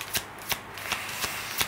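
Tarot cards riffled in a shuffle, five crisp bursts spaced roughly every third of a second, close and fairly quiet with no voices.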